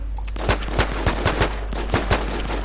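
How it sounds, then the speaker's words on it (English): Gunfire in an online zombie shooter video game, a string of about eight evenly spaced muffled shots over a constant low hum, moderately loud with no talk. "You're shooting at me?"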